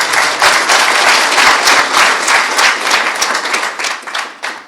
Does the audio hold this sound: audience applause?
yes